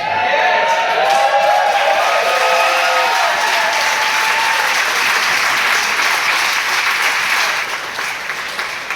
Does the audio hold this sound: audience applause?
yes